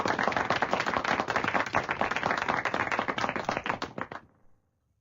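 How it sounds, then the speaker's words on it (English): A crowd applauds with dense, steady clapping that thins out and fades to silence near the end; game applause for a birdie in an online golf video game. "you do get to hear a little clapping when you get a birdie"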